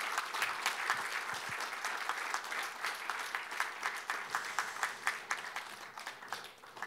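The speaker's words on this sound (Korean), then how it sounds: "두 홍보대사께 여러분 다시 한번 감사의 박수 부탁드리겠습니다" Audience applause at a Korean public agency's vision ceremony after a guitar performance, dense steady clapping from a sizable crowd, sustained for several seconds and tapering slightly at the end.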